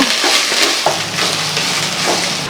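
Okra sautéing in an oiled pan for a home-style curry, a steady soft sizzle with scraping and stirring of the spatula throughout, close and fairly loud, no voices.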